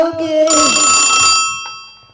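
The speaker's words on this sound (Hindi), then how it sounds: "कहाँ से तोरा फोन आवे इतना बड़ी रात के रे?" A telephone bell rings loudly and close for about a second, its bright metallic trill swelling and then fading out, with a voice briefly audible just before it.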